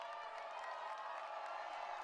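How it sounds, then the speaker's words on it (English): Home crowd at a Williamsburg Friday night high school football game against Xavier, a steady distant roar of cheering and murmur from the stands, held at an even level throughout. "You hear the Williamsburg crowd get into it."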